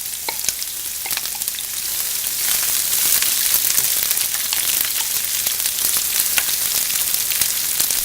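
Slivered onions frying in a pan give a loud, steady, close sizzle with crackles and pops all the way through.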